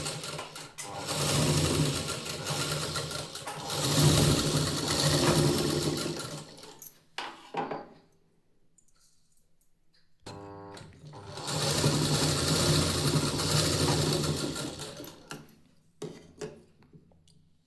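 Sewing machine stitching a katori blouse piece, running in two long loud bursts with a quiet pause between them and a few short starts and stops at the end.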